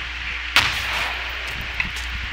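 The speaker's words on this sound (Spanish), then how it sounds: "Más o menos donde creo que venían los disparos." In the ARMA 2 military game, a single sharp gunshot or blast cracks loudly, then fades with a rumbling tail, followed by a fainter distant shot and low background noise.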